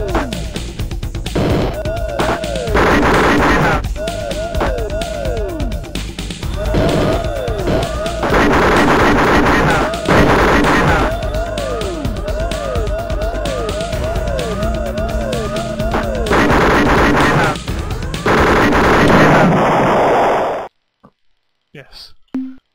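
Repeated gunfire from the Yehat Terminator ship in the space-combat game Star Control 2, loud pulsing bursts with siren-like electronic tones over a steady hum, stopping abruptly near the end.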